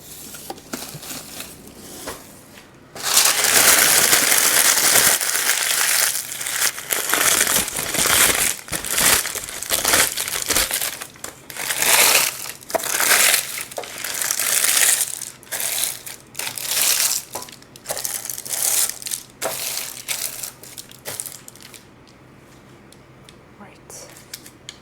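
Baking paper crumpled and crinkled by hand in a home kitchen while making chocolate chip cookies, loud close rustling and crunching in irregular bursts that fade near the end, with some talk.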